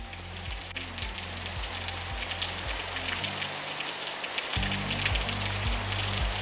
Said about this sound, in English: we can also create rain in the Brainstorm